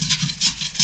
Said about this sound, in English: I'll go with this razor plane maybe an 1/8 inch to those lines